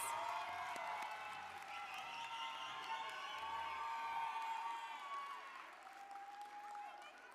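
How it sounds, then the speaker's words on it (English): Audience at the Unitech Academy New Orleans Campus fall 2021 graduation breaks into sustained applause with cheers and whoops rising over dense clapping, the crowd noise steady and fairly distant throughout. "Can we have a round of applause for all the Unitech Academy New Orleans Campus"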